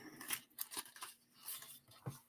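A die-cut paper sailboat being gently peeled off a card, giving quiet, close crinkling and tearing rustles in a few short bursts with small gaps between them.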